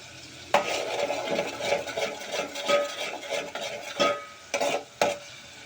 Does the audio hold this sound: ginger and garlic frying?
yes